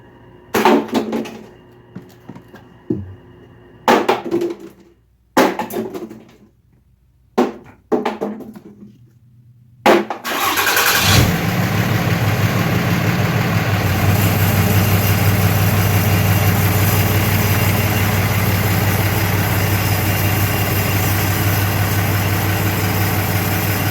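A Ram 3500 pickup truck engine cranks and fires after some intermittent clunks and shop noises, then settles into a steady, loud, rumbling diesel-like idle that continues evenly to the end.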